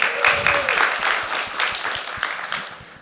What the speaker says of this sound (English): So once again, round of applause for Mayor John Heilman.